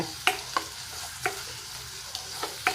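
Small onions chopped and cooking in coconut oil in a pan for a Kerala brinjal stir-fry, with soft sizzling under a few sharp stirring clicks of a spoon against the pan at irregular intervals, no talk.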